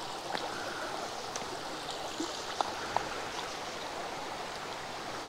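The Olginsky waterfalls stream in Eastern Abkhazia rushes steadily, a dense, even wash of flowing water heard close and alone, with a couple of faint clicks.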